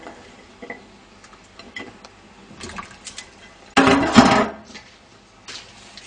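Carrots dropped into a simmering pot-au-feu, landing in one brief loud splash and clatter of liquid midway through, with quieter kitchen handling sounds before and after.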